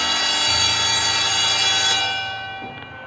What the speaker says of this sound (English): we have this iron bell plus this electric bell also